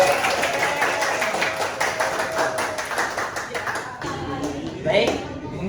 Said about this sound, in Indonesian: Kasih tepuk tangannya dong buat Shana.